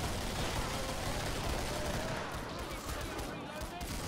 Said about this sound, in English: I think it's supposed to be shot in burst.